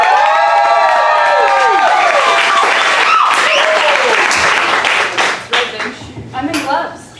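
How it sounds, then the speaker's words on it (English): A comedy club audience breaks into loud applause for a comedian, with dense clapping, some cheering and crowd voices, and speech rising over it as the clapping thins toward the end. "I want to give a big round of applause"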